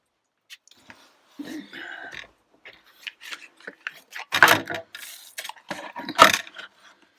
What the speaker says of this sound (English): I need to get out my embossing plates.